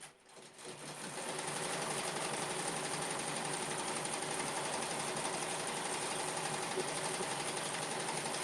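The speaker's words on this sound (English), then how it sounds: "So it's doing all the satin stitching now" Embroidery machine satin stitching a bookmark, a fast steady whirring hum that starts up within the first second and then holds an even, continuous buzz with no voices.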